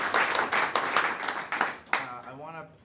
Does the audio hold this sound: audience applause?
yes